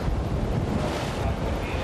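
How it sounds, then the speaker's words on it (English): Strong wind buffets the microphone above a choppy sea at a cliff diving site on the Croatian coast near Dubrovnik, a constant dense roar of gusts and surf with no clear breaks. "look at the conditions of the ocean. Lots of wind and very choppy down below."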